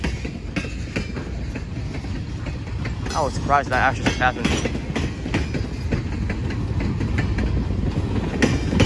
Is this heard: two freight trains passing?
yes